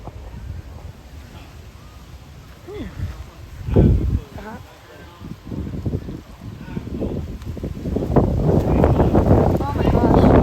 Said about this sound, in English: Yeah, it's getting pretty windy out here.